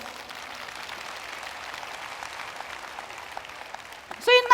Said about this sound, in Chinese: 温东光，给他一个掌声